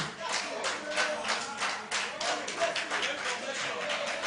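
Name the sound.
audience clapping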